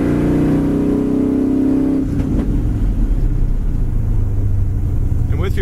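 A dark green 1970 Chevrolet Camaro rolls down the road with a steady low engine drone, an early rise in pitch settling into even cruising rumble, recorded from the cabin.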